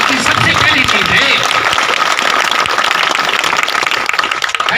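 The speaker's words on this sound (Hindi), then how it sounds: "इसके लिए ताली बजाओ।" A crowd at a village welcome rally in Fartiya claps loudly and continuously, a dense roar of hands blended with crowd noise and voices throughout.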